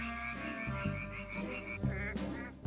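Fire-bellied toads call during mating season on Hallasan, a steady chorus of overlapping low croaks and higher trilled notes, close and continuous throughout.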